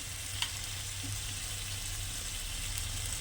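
A spice paste with turmeric and salt sautés in a pan, giving a steady, moderate frying hiss that holds evenly throughout, with one faint clink near the start.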